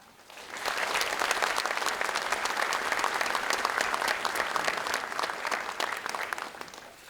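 An audience claps warmly at a Korean justice minister's inauguration ceremony, a dense, sustained round of applause that swells quickly and holds steady for several seconds before starting to fade.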